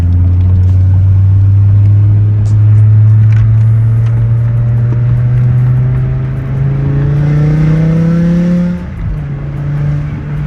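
A BMW E60 M5 with an upgraded exhaust revs up steadily, its deep exhaust note rising in pitch, then briefly drops and settles; loud and close, no talking.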